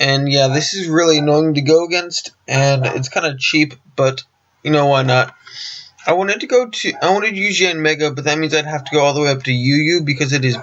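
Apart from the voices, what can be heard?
None of the usual background noises is heard.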